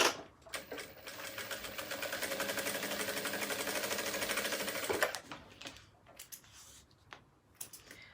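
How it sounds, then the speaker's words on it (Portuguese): A sewing machine stitches a seam to reinforce the corner of a fabric organizer case, giving a fast, even mechanical whir that runs for about four seconds, then stops and leaves scattered soft handling clicks. "eu vou passar uma costura aqui, ó, pra poder ela firmar essa"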